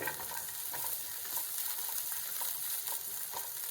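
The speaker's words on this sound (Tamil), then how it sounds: "இதில் 5 கேஷ்யூம் போட்டுக்கோங்க. முந்திரி பருப்பு வதங்கட்டு." A few cashews frying in a pan, a soft, steady sizzle and crackle with faint periodic stirring taps, quiet and close.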